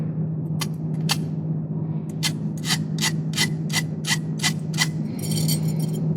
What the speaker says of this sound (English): I just gotta clean up the little burr on the edge with the file.